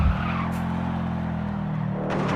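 Racing car in the video game DTC oversteering, tyres skidding under a steady droning engine note that holds throughout, loud and close, with no talk.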